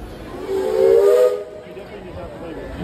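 A single steam train whistle blows for about a second at Walt Disney World in Orlando, Florida, a loud breathy tone over hissing steam, then fades to background noise.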